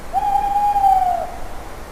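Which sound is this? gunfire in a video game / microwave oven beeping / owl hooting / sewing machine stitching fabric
owl hooting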